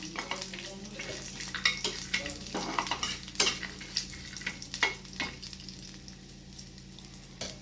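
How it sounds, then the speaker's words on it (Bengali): Peanuts sizzle and crackle in a hot pan while a utensil stirs them, with scraping clinks against the metal throughout. "বাদামটা কিন্তু হালকা করে একটুখানি ভাজবো বেশি ভাজবো না"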